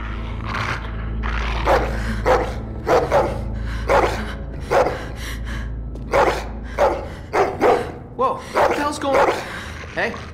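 Rosie the dog in The Walking Dead video game barks in loud, sharp bursts, irregular at first and then coming faster, over a low hum, with people talking between and around the barks.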